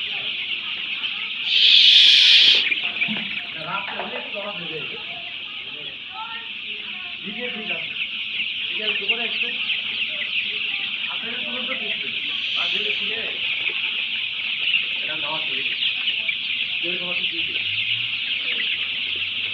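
A farm shed full of newly arrived young broiler chicks, a continuous high chorus of shrill peeping from many birds, while people talk nearby over the flock.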